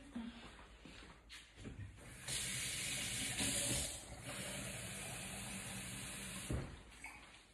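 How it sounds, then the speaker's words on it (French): Water pours into a cooking pot in a home kitchen, about 500 grams for a leek vinaigrette recipe, a soft steady hissing splash lasting several seconds, fairly quiet, with light clatter before and after. "On va mettre 500 g d'eau."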